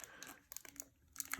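A plastic bag crinkles and rustles as it is taped onto the barrel of a homemade popcorn cannon, giving soft, quiet bursts of crackling with brief gaps between them, close up and with no talking.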